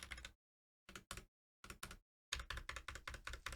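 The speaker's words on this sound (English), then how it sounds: "my preferred keyboard sound is that it has a more, what's considered thock noise to it" Typing on a mechanical keyboard with deep, thocky keys, close and clear in short bursts of keystrokes separated by silent pauses, ending in a faster run of presses.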